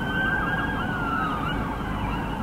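An ambulance siren wails loud and close, its rising and falling tone sweeping steadily over rumbling road traffic on a street.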